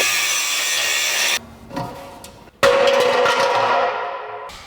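A power tool, probably an angle grinder or saw, cuts through the metal box of an exhaust silencer on a VW Golf GTI rally project car. The cutting comes in two loud bursts with a brief quieter pause between them, and no one speaks.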